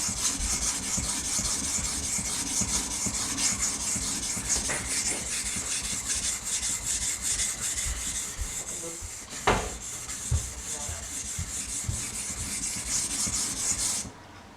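A knife blade is drawn back and forth across a whetstone in continuous, close, rhythmic rasping strokes, with a few brief louder scrapes near the end before the stroking stops.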